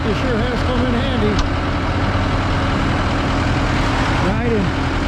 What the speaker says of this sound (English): This tractor sure has come in handy.